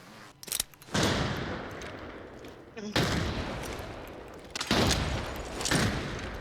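Gunfire outside in the Arena Breakout: Infinite video game, heard as several loud sharp bursts separated by short gaps, each trailing off in a rough echoing wash.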